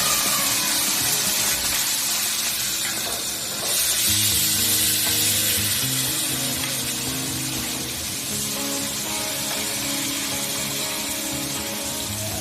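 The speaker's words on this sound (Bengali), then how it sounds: "প্রথমে মাছগুলোকে ভেজে নেব।" Prawns frying in hot oil in a wok, a continuous broad sizzle that flares louder around the midpoint when more fish goes in, with faint clinks and scraping underneath.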